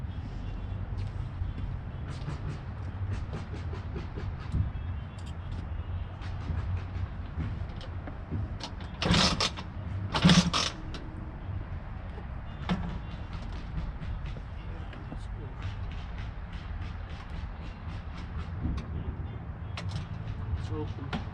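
A 1982 Vespa scooter with its stock, unadjusted carburetor idles after a cold start: a low, uneven putter with a fast rhythmic ticking and two louder sputtering bursts midway, with faint talk at times.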